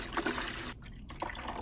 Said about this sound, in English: So I'm going to fill it up with some water